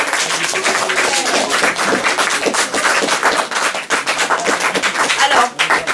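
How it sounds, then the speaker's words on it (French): Schoolchildren clap for a classmate at a Somme 1916 museum in Albert, dense and loud close applause running throughout with talk mixed in. "on va applaudir votre camarade"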